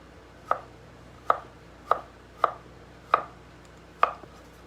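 Six crisp knife chops strike garlic on a cutting board at a steady, unhurried pace. Each sharp knock stands alone against a quiet room.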